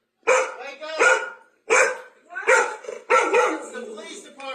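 A dog barks repeatedly during a police entry into a home, loud close barks in four bursts with short gaps, some shading into yips and whimpers.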